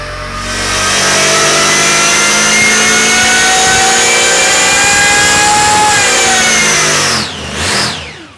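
A supercharged 350 small block Chevy V8 runs on a dyno, roaring loudly and steadily as its pitch climbs through a long pull for about seven seconds, then drops off sharply before a short final blip of revs.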